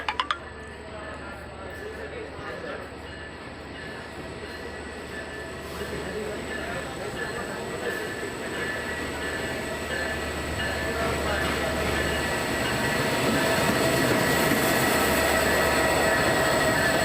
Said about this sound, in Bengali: এটা হচ্ছে সিল্ক সিটি ট্রেন আমরা এটা করেই ঢাকা যাবো